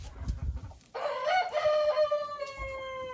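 A chicken kept in a greenhouse crows once, a loud drawn-out call that rises after some low shuffling and fades near the end; no one speaks.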